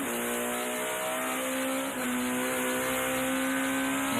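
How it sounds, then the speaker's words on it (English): A British Touring Car Championship race car from the 2001 season accelerates hard, its engine note climbing steadily, briefly dipping at a gear change, then rising again, loud and close like onboard racing audio. "Now building up through the gears."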